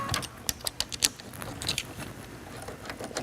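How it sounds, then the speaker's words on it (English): A sewing machine's embroidery arm moving into its parked position, a run of close mechanical clicks, ticks and rattles with a busy, uneven rhythm and no voices. "we're going to park this embroidery arm so that we can sew with the embroidery arm just parked into place"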